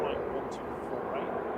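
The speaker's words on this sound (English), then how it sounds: "Ryanair from Tenerife South just touched down on 23 right, just rolling out now" A Ryanair Boeing 737 MAX 8200 airliner rolls out after touching down on runway 23 right at Manchester Airport, a broad, steady distant rumble with someone talking over it.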